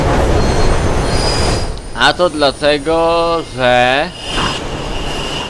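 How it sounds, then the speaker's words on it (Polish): A train rushing through a tunnel in the video game Mirror's Edge, starting as a loud rumbling roar and then turning into a series of high, drawn-out metallic wheel squeals, with someone talking briefly over it. "Za plecami masz pociąg, zmiataj tamtąd."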